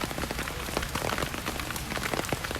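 Heavy rain pours down on an outdoor takraw match, a dense steady hiss of drops hitting the surface that fills the whole stretch without a break.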